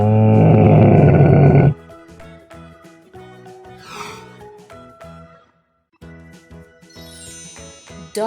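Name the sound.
camel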